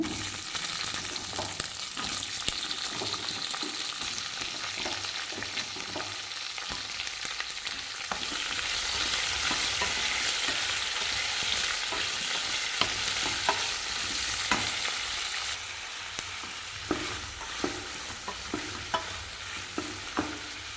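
Onions fry in a pan for an eggplant gravy, with a continuous close sizzle and regular stirring scrapes and taps; the hiss swells midway, then eases back.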